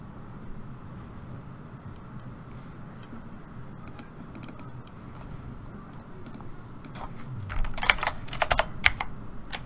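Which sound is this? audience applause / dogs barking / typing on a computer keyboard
typing on a computer keyboard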